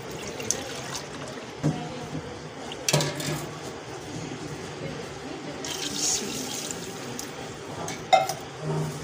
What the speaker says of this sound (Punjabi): 3 ਮੱਗੇ ਜਿਹੜੇ ਪਾਣੀ ਦੇ ਦੇਖੋ ਜੀ ਇਸ ਤਰ੍ਹਾਂ ਮਿਣ ਕੇ